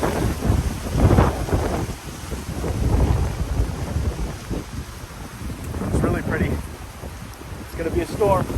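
Thunderstorm weather at a campsite in Brunswick, Georgia: steady broadband rumble with gusting wind and low thunder-like swells throughout, moderately loud, with no clear speech over it.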